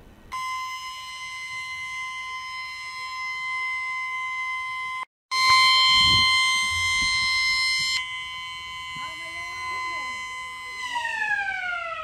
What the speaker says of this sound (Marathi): अचानक अकोला जिल्हा महिला रुग्णालयात अलार्म सायरन वाजू लागला